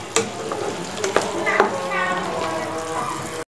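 Meat being dry-fried and stirred in a pan for a home iftar meal, a steady sizzle with clattering stirring strokes and scrapes throughout, up close, with a voice briefly heard in the background.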